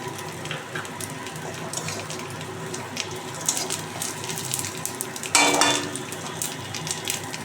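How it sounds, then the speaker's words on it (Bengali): Hot oil tempering with dried red chili, grated ginger and mustard seeds goes into bitter gourd lentil dal, a close crackling sizzle with pan and utensil clinks, then a sudden louder hiss burst as it hits the dal. "এবার আমি ডালটা সম্বারা দিয়ে দিচ্ছি।"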